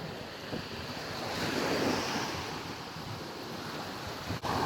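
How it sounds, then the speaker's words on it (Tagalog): Steady wind gusting by the sea, with a broad surf-like roar that swells and eases over waters that are not very rough; no one speaks. "mahangin siya pero hindi masyadong maalon"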